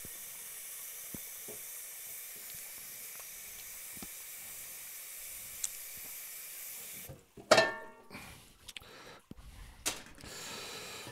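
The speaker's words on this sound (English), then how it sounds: "So this boiling water will just help the pork shank start cooking that much quicker." Pot of boiling water cooking a pork shank gives a steady, low hiss and sizzle for several seconds, then gives way to louder clattering bumps and knocks nearby.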